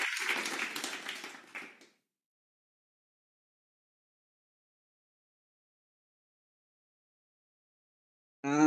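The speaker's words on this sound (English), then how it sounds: "Let's give him a welcoming applause." An indoor audience at an evening club meeting applauds to welcome a speaker, a short burst of clapping that tapers off within two seconds, followed by silence and then a voice beginning to speak.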